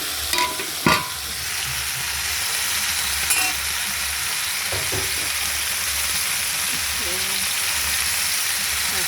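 Fish frying in a pan in a home kitchen, a strong continuous sizzle with a few clanks and stirring knocks near the start, steady and close.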